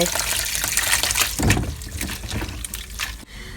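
Water is poured steadily over pickled green onions and cabbage being washed, a close, splashing stream with gurgling bursts that tails off toward the end.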